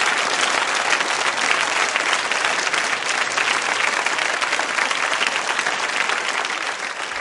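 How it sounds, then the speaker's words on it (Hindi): Loud, dense applause from a school audience at a quiz show fills the whole stretch, a steady roar of many hands that stays even and then eases slightly at the end. "तालियां जोरों से बजाइए।"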